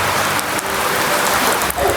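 Steady rain falling outdoors, a dense continuous patter that stays loud throughout with no talking over it.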